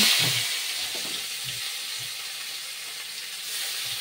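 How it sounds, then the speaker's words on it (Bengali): Onion and garlic dropped into hot oil fry with a constant, fairly loud hiss. A few faint low knocks sound now and then underneath. "এখন এই যে পেঁয়াজটা রসুনটা দিয়ে দিচ্ছি"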